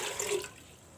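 Water is poured into a cooking dish before boiling for momos, a short splashing stream that fades after about half a second, close and moderately loud.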